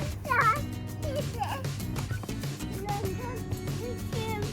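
A cat in a park gives a short, clear meow near the start, then fainter mewing under a steady low background hum.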